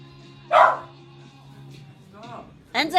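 Dogs barking at a dog park beside a college basketball game, two short loud barks with a fainter yelp between them, heard over a low steady hum.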